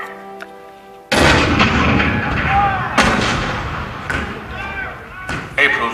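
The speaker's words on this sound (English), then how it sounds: "The cannon spoke for war, bitter, violent, and devastating." Cannon fire at Fort Sumter, 1861, in a theatrical attraction staging: a heavy boom erupts, followed by further thundering blasts and rumbling impacts, loud and close, with a voice speaking beneath.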